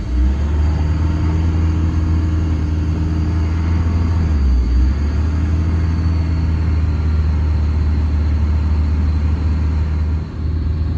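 A Toyota MR2 SW20 engine runs at a steady idle, a loud, continuous low rumble close to the microphone with a brief dip in tone partway through and no talking.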